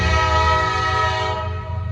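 A Norfolk Southern freight train passes close with its horn blaring, a loud sustained multi-tone blast over rolling rail rumble that drops away toward the end.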